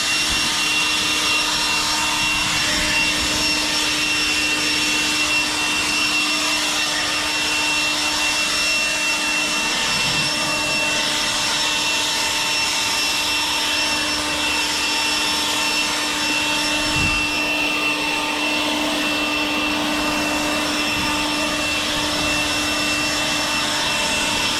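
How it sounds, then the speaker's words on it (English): An Echo DPB-2500 X Series battery leaf blower runs at regular speed, a steady, loud, close whooshing whine with a constant high tone, unbroken for the whole stretch. "So on regular speed, you would keep this held in."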